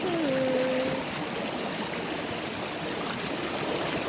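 Stream water flowing along the Pacific Crest Trail, a steady, close rushing and trickling wash with a faint brief whistle-like tone at the start.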